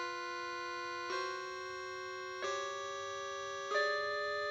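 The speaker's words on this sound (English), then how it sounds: "The accurate term for this is called a tritone." Tritone interval, two notes half an octave apart, sounded three times as clean sustained tones, each struck chord ringing and fading before the next, quiet and isolated.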